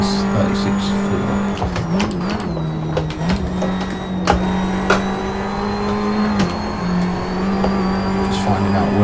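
A race car engine hums steadily through a lap in Assetto Corsa, its pitch shifting with throttle and gear changes, while someone talks over it.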